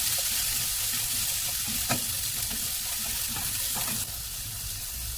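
Cabbage and spring onion for egg fried rice sizzle steadily in a hot pan while being stirred, with faint scraping strokes under the constant frying hiss.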